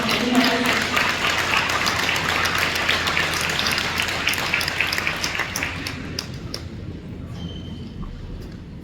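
A school awards and scholarships ceremony audience gives a big round of applause, dense sustained clapping from a crowd that runs for most of the clip, then tapers off as a voice begins to speak.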